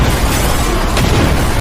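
A loud, dense explosion fills the moment as a man blows himself up aboard a plane in a film scene, a sustained roaring blast with no pauses.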